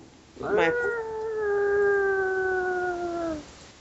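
A voice imitates howling wind with a long, wavering, sustained wail that rises briefly and then holds steady before fading out.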